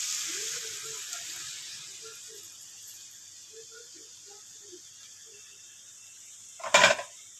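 Potol and potato with spices simmering in milk in a pan, a gentle steady sizzle and hiss with soft bubbling pops, ending in a brief louder clatter near the end.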